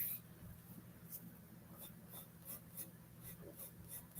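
A pencil sketches leaf veins on paper in short, soft scratching strokes, close up and quiet, coming in a loose repeated rhythm with no one talking.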